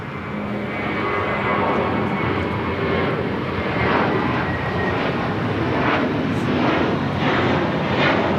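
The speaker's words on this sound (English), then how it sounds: "Cathay Pacific, the 777, now pushing back." Cathay Pacific Boeing 777 pushing back at LAX, heard as a steady, fairly distant jet engine roar with a broad rumbling wash that swells gently and holds throughout, no voices over it.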